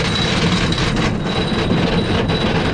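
A continuous rumbling roar of a train rolling by, broad and steady with a faint high whine running through it.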